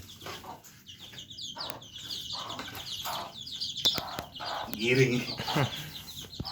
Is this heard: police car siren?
no